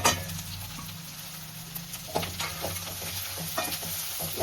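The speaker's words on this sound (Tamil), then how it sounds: "நன்றாக தீயும் வரை பரட்ட வேண்டும்." Cinnamon, cloves, dried chilli, coriander and fennel fry with ginger and garlic in a pan, giving a soft constant sizzle broken by scattered scrapes and taps of stirring, fairly quiet and close.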